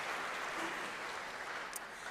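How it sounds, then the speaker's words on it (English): An audience at the 2024 Cleveland International Piano Competition's final concerto round gives brief, soft applause, a faint, diffuse patter that stays level throughout. "applause for that"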